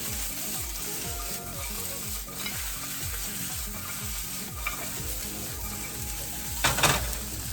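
Thawed frozen green beans and mushrooms sauté in a hot pan with a loud, continuous sizzle, broken near the end by a brief clatter of stirring.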